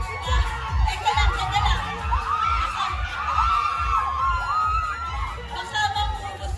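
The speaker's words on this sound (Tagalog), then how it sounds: "Baka mangubos yung sigaw, hindi pa nag-start." A crowd shouts and cheers at the start area of a river fun run, with children's voices among a steady, dense roar. Loud, continuous whoops rise over the general noise.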